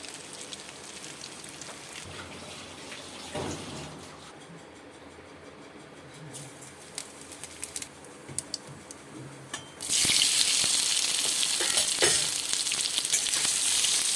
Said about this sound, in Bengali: সর্ষের তেলের মধ্যে, গরম সর্ষের তেলের মধ্যে ছানাগুলোর বড়া